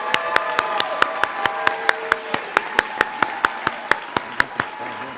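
Steady, evenly spaced claps from one close pair of hands ring out at a college commencement ceremony, about twenty sharp claps in a regular rhythm over a faint tonal background.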